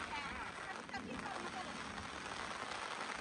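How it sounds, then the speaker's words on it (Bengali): Sudden rain during a storm falls continuously in a faint, even hiss over surfaces, with muffled voices underneath. "হঠাৎ করে বৃষ্টি চলে আসলো"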